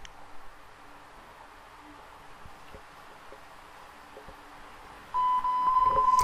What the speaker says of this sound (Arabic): الصوت ده معناه ان انا وصلت لاعلى صوت في السماعة